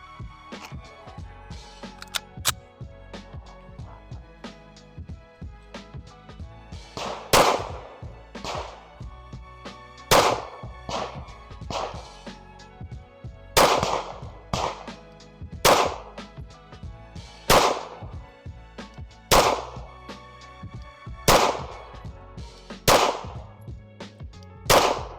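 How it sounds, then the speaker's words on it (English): Sig Sauer P211 GTO pistol fired at a target from 7 yards, a series of loud, sharp single shots spaced slowly and evenly, with quieter handling noise between them. "So what I'm gonna do is I'm gonna take some headshots on this target, slow and controlled at 7 yards"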